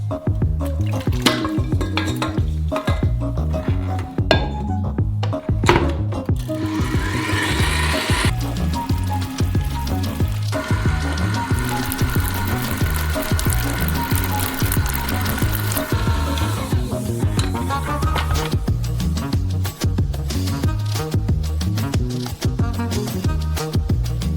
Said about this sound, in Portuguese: Agora colocamos a tigela de volta na batedeira e preparamos a segunda remessa.